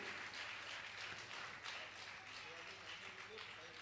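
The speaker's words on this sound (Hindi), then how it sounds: "जोरदार जोरदार करतल ध्वनि से ये आपकी तालियों की आवाज वहां तक पहुंचना चाहिए" Audience applause at a Jain religious gathering in Gunayatan, Jharkhand, a faint, even spread of many hands clapping that holds steady for several seconds in a large space.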